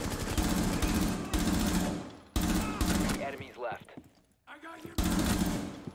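Rapid automatic gunfire from a video game, fired at a hostage, in loud sustained bursts broken by short pauses, with some voice and clatter between the volleys.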